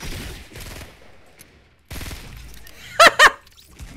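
Two quick bursts of gunfire ring out in the video game Fortnite, close and loud, following stretches of people talking and game noise.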